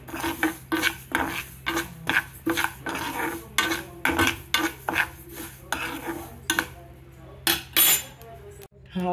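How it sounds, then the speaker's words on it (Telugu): Small seeds rattle and scrape against a pan as they are dry-roasted and stirred with a utensil, giving a steady run of near, distinct clinks and scratches with a short pause near the end. "ఆవాలను కూడా వేయించేసుకుందామండి."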